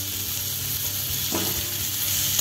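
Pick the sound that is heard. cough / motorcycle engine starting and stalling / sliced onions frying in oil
sliced onions frying in oil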